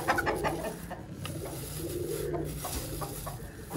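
Desi chickens at a small backyard mini zoo cluck and coo softly while being fed roti, a close, continuous murmur of several birds with scattered sharper clucks and no talking.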